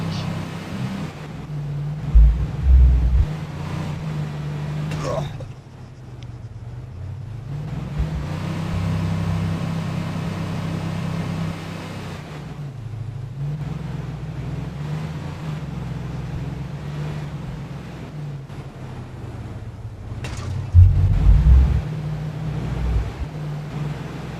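A broken-down car's engine in Arma 3 drones steadily at low pitch for the whole stretch, with a few louder thumps and bumps breaking in near the start and again toward the end.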